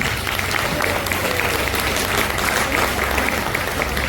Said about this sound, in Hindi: जो बनवाए जोरदार ताली मारिए अपने